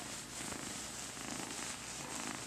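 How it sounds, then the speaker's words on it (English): A close, steady purring from a cat, soft and continuous with a gentle rhythmic rumble. "Little purrs. Little happy kitties."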